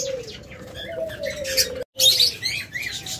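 A black dove coos close by in low, soft calls, with chirping from other birds around it and a brief gap of silence midway.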